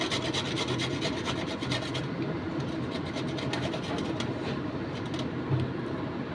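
Banana stem (thor) is rubbed back and forth by hand, a continuous close rasping scrape with a steady stroking rhythm and no talk.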